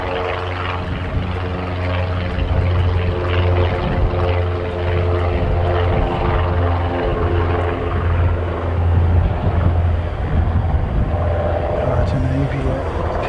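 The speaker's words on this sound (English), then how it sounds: "Napier P68, twin-engined aircraft." A Napier P68 twin-engined propeller aircraft takes off, its engines holding a loud, steady droning hum that swells slightly toward the end, with a voice speaking over it.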